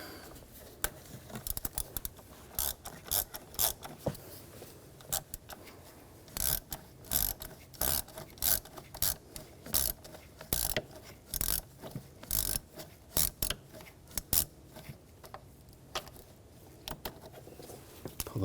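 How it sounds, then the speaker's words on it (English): Ratchet driving a T25 Torx socket to remove screws on a 2007-2013 BMW X5 with the 3.0L inline-six, giving long runs of close, rapid clicking bursts with short pauses between, no talking. "We're going to use a T25 socket. Take these screws out."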